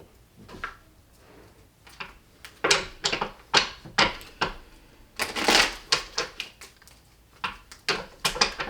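Tarot cards shuffled by hand during a card reading, a run of crisp riffling bursts and soft slaps in an uneven rhythm, close and fairly loud with no talk.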